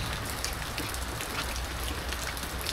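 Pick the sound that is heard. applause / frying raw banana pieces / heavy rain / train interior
heavy rain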